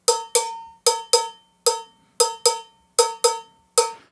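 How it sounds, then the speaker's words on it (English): An oversized cowbell struck in a steady, slightly syncopated pattern, about ten bright metallic clanks with short ringing decays, close and alone. "This is way too big of a cowbell compared to what they use."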